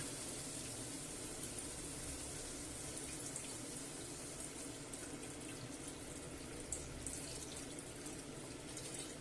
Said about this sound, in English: what we want to do next is cover everything up with this stock